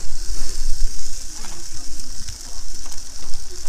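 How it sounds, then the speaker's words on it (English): Meat sizzles on a barbecue grill, a close, steady hiss and crackle of fat with small pops, while people talk nearby. "Listen to that sizzle"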